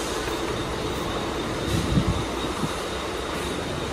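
A train rumbles steadily with broadband rail noise and a few faint clanks, no voices, as carriages slowly come to rest at Chhatrapati Shivaji Maharaj Terminus station in Mumbai.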